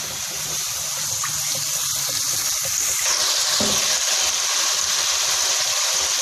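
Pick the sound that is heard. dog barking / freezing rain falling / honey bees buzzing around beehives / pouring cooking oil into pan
pouring cooking oil into pan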